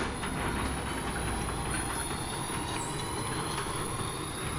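A car engine fitted with a homemade welded exhaust runs as a steady, loud, dense rumble that holds without a break, with no voices over it.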